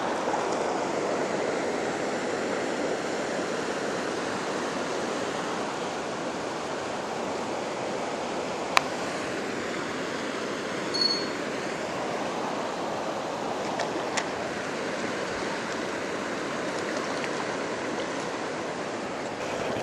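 Steady rushing river water, a broad continuous roar close by and fairly loud throughout, with a couple of faint clicks over it.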